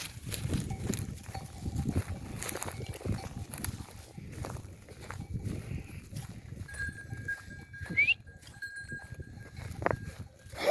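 Sheep bleat faintly amid outdoor rustling and footsteps, with a shepherd's voice occasionally heard nearby while herding the flock.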